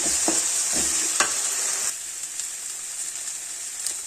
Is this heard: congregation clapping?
no